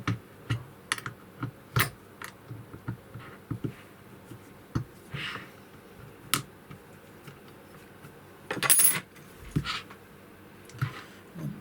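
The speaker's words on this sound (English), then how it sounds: "you can screw each of these in. With help from the supplied spanner" Small metal parts of a soldering helping-hands stand are screwed in with a little spanner, giving sparse, quiet clicks and taps with brief scraping rattles, close up in a calm room.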